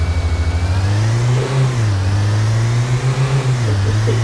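A police car in Autobahn Police Simulator revs its engine with a loud, steady low drone that rises and dips in pitch as the throttle changes, close and continuous throughout with no talking.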